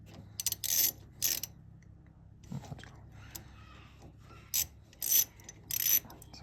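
Steering column on a Triumph Roadster being retightened, heard as several short separate bursts of ratcheting and mechanical clicking with quiet pauses between them, close by, with no talking.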